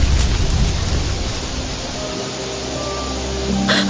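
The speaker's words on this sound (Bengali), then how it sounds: "এই চলো সবাই চলো, বৃষ্টি নামছে বৃষ্টি নামছে।" Rain begins falling in an animated story as a broad rushing hiss, with faint tonal music underneath and a brighter burst of splashing toward the end.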